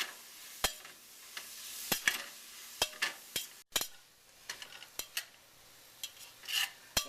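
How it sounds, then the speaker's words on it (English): Yellow and green peppers fry in a pan for Moroccan chilli under a faint, quiet sizzle, broken by sharp clicks and scrapes of a utensil stirring at irregular intervals. "So I'm just going to go ahead and add my yellow peppers and my green peppers. Let those fry up just a minute."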